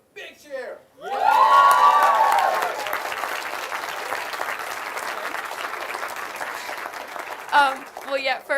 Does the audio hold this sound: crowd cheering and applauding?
yes